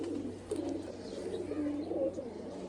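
Pigeons in a loft coo in soft, low, throaty murmurs that overlap steadily over a constant hum, with no voices.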